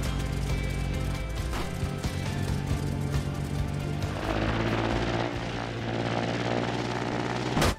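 A simple helicopter built in the Trailmakers sandbox game gives a loud, steady engine and rotor drone throughout, its tone shifting partway through, with no talking over it.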